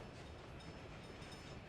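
A construction train rolls along the track in the Soviet-era city-building game Workers & Resources, a faint, steady rumble with a soft rail clatter and no voices.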